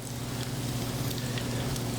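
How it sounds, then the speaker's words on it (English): A holiday dish fries in hot oil, giving a dense, even sizzle with fine crackles and a low steady hum, close and continuous, with no talking. "We're going to continue frying."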